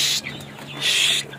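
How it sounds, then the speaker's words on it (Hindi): Chickens cluck and chirp in a farmyard, two louder bursts of poultry calls separated by quieter moments, with a steady low hum underneath. "और ये देखें सारे चूजे इधर, अभी इनको"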